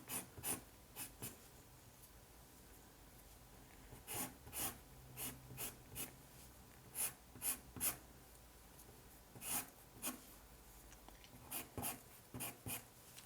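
Pastel pencil scratching across paper in quick short strokes while drawing hair, soft bursts of scraping that come in irregular clusters with pauses, close and faint with no talking.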